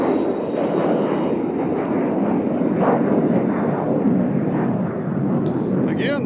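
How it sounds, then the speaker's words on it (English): Alaska Airlines airliner from Seattle landing on runway 2 center at Nashville International Airport, a broad continuous jet roar heard from a distance, with faint background noises and occasional clicks. "here is Seattle coming in, Alaska Airlines. They landed on 2 center."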